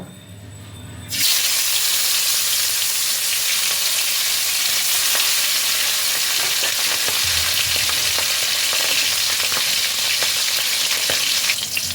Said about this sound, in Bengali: এবার আমি এই তেলের মধ্যে মাছের মাথাগুলোকে ভালোভাবে ভেজে নেব